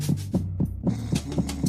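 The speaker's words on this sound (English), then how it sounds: "We get that heartbeat sound effect because of the guard next to us in the other locker." A heartbeat sound effect in Metal Gear Solid 2 as Snake hides in a locker beside a guard, a steady, deep, throbbing pulse of about seven beats over a low hum.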